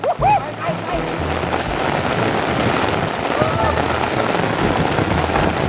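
Heavy rain pours down in a dense, continuous hiss, loud and close, with a few brief sounds near the start.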